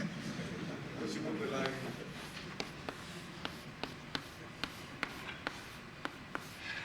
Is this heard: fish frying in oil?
no